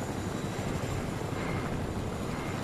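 A helicopter in the Fortnite video game gives a steady, loud engine drone and rotor roar, a continuous dense wash of noise with no talk over it.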